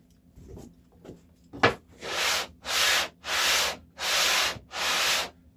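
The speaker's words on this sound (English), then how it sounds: "Then I'm going to take it to a sander. I'm going to run it for a little bit" A hand plane's sole is worked on a sander in five even, rhythmic rasping strokes, each about half a second long, with short quiet gaps. A few faint knocks and shuffles come just before.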